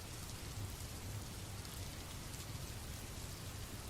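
Steady rain falls continuously, a soft even hiss with light drops and no voices, calm and unbroken throughout.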